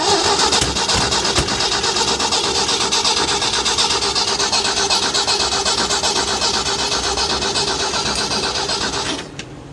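A gas engine on a 1990s tracked auger machine, parked over ten years and likely flooded, cranks loudly and steadily for about nine seconds with a rapid rhythmic churn, then cuts off abruptly.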